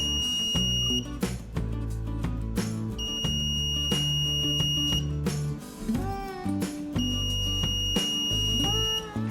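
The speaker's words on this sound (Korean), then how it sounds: "2초간 소리가 나고 2초간 쉬고 하는 것을 총 3번 반복해서 삐, 삐, 삐 이런 식으로 3번 소리가 날 거예요." An Arduino active buzzer sounds three sustained, high electronic beeps, each lasting about two seconds with pauses between them, heard over other steady background sound.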